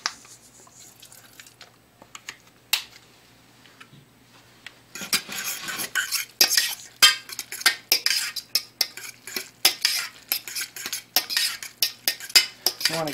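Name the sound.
stirring seasoned rice with lemon juice in a pan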